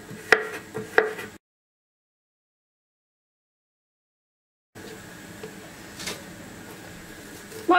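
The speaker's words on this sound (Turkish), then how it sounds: "Şöyle yan yan doğrayacağım." A knife chops cucumber into large pieces on a board, with a couple of crisp, close taps, a silent stretch, then a fainter cut amid soft kitchen background noise.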